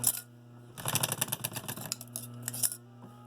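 Sewing machine stitches fabric corners in short runs, a quick rattling needle chatter starting, pausing and starting again, close and quiet over a faint steady hum.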